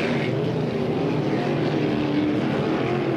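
An H9 class racing motorboat roars through a race final, a continuous loud, droning engine note holding steady throughout with a broad rushing wash of water noise.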